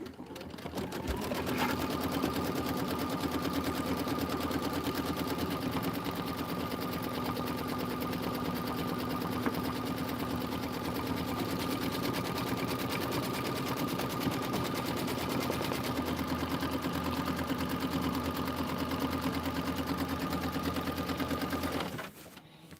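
An embroidery machine stitches the tack-down line on an autumn-themed quilt border, running loud and steady for about twenty seconds with a constant mechanical whir and rapid needle chatter, close by, before stopping at the very end.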